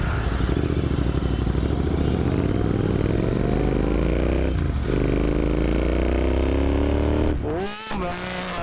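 Royal Enfield Interceptor 650 motorcycle on a ride, its engine droning loud and steady with rising pitch through gear changes, a brief dip near the middle and a sharp throttle burst at the end.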